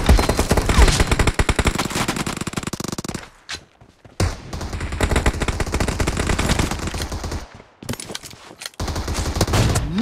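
Rapid automatic gunfire in a mobile shooter game with an AWM, loud close bursts broken by two brief silent gaps, then the firing resumes.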